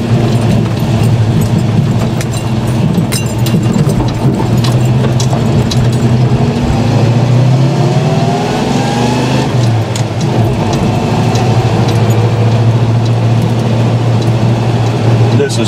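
A 1963 Chevy one-ton truck engine rumbles loudly and steadily from start to finish, with a brief rise in revs near the middle, while people talk over it.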